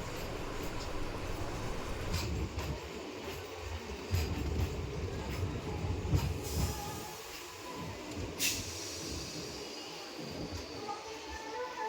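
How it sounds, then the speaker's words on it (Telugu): A MEMU train running from Narasapuram to Vijayawada rolls into platform 3 at Gudivada junction, its steady low rumble and rail clatter filling the platform, with faint squeals and background chatter. "ఇప్పుడే ప్లాట్ఫామ్ నెంబర్ 3 మీదకి నరసాపురం నుంచి విజయవాడ వెళ్ళే మెమో అయితే వచ్చిందనమాట"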